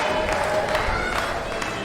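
A crowd at a high school wrestling match cheering and clapping, a steady roar of voices and applause throughout with a commentator talking over it.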